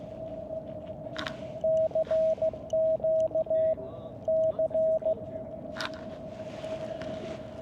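Morse code CQ call keyed on amateur radio at 14.065 MHz during a portable park activation: a steady, clear tone broken into crisp dots and dashes in three quick groups over constant hissing static.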